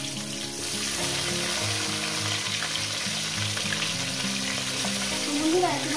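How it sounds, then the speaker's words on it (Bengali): Fish heads fry in hot oil, a steady loud sizzle and crackle that runs throughout, with a low tonal hum underneath and no one speaking. "মাছের মাথাগুলো আমি ভেজে তুলে নিয়েছি"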